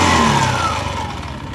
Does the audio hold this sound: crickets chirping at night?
no